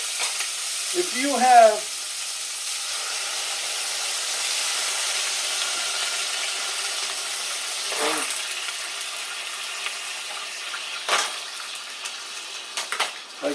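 Mussels in a hot pan sizzle and hiss steadily with steam, a continuous crackling frying sound, while a voice briefly speaks near the start and a few clanks sound later.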